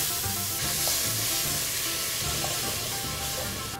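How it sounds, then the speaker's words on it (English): Onions hitting hot oil in a pot as the base of a meat sauce, a loud continuous hissing sizzle close up with soft stirring scrapes underneath, no voices. "We're going to add our onions."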